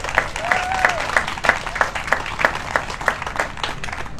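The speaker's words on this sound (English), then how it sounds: "let's give a big round of applause to everyone who's here." Crowd applause outdoors at a Make-A-Wish charity walk closing ceremony at a zoo, a scattered group clapping with distinct individual claps standing out, moderately loud and unbroken by talk.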